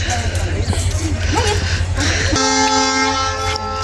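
A train horn at Berhampore station sounds a loud, steady, sustained blast over the last half of the moment, with a crowd murmuring and low rumbling before it starts.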